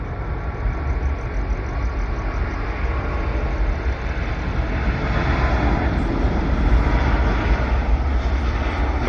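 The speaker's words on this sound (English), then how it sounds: "And look at what we have, a Qantas Airbus A380." Qantas Airbus A380 airliner at Sydney Airport, a loud steady broadband jet roar that holds throughout and swells slightly toward the end, with no voices.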